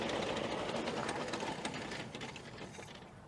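A 1928 Austin 12 Heavy vintage car engine runs with a steady, busy mechanical clatter, then gradually loses strength and fades as it is switched off, with no talking.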